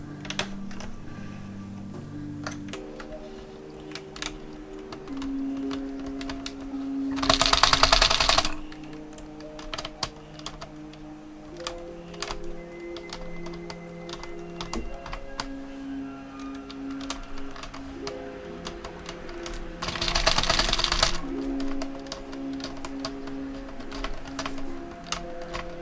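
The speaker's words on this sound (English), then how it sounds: "So you have to crank it to give a chance of the machine to release the project." Addi Express Kingsize knitting machine being cranked, rapid clicking and clattering of the mechanism in bursts, with two longer, louder whirring runs of the crank.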